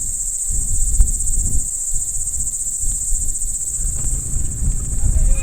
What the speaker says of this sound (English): The buzz of cicadas is constant in the background